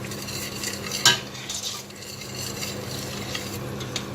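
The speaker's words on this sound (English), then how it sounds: "Mix it. Maybe fry 5 minutes." Onions being stirred and fried in a pot on a low flame, with a soft continuous sizzle, a sharp metallic clink of the spoon early on and quieter scraping afterward.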